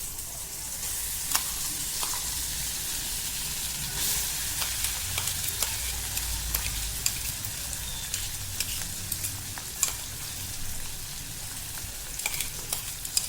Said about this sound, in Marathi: आता आपण तेल तापले त्यामध्ये खरडा घालून घेऊया